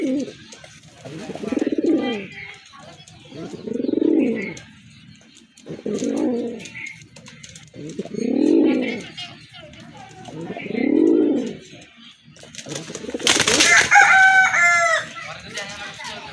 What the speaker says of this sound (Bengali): আর একটা পেয়ার বড় পায়রার এটাও কিন্তু অনেক বড় সাইজের কবুতর